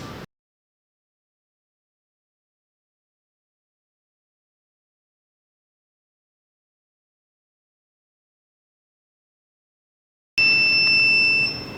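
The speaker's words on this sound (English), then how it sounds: "When you hear the alarm," The TUOLI TL-X9 phone case machine sounds its finish alarm, a steady loud electronic beep with sustained tones that starts abruptly after a long silence and continues alone.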